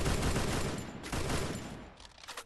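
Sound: gunfire from another hill in a video game

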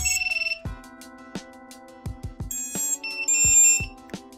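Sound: buzzer beeping on a newly built FPV drone

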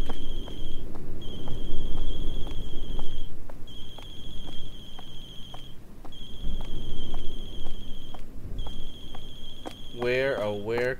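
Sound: phone ringing in the video game Closing Shift

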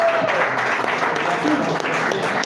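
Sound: audience applause

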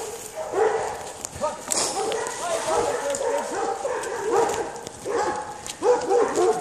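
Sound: dogs barking at mountain bikers

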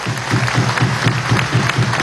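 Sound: crowd applauding the armed forces

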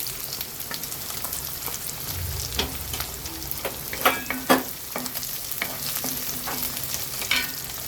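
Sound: cumin, shallots and onions frying in pan for kara kuzhambu

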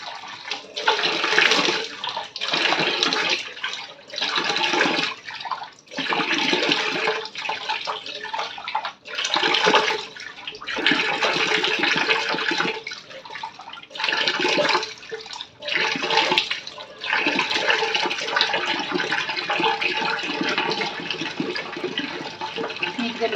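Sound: tap water running while washing off a face pack

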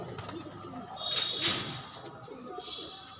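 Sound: pigeon cooing

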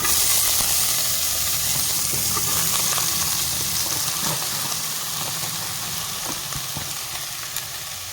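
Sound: chopped onions frying in hot oil in a wok

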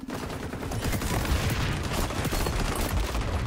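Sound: gunfire in the video game XDefiant

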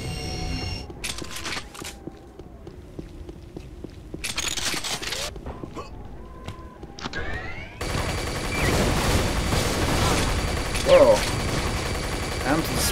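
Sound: Dispersion pistol firing in Unreal video game

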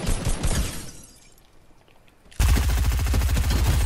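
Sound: gunfire from a video game

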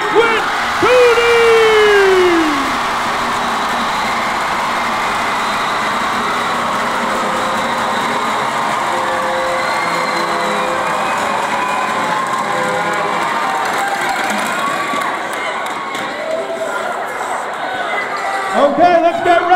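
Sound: school pep rally crowd applauding and cheering

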